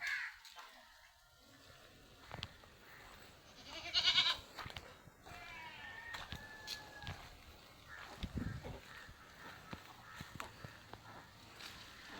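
A mother goat and her young female kid bleat at a livestock sale, with a few scattered calls over background noise and a louder cluster of bleats in the middle.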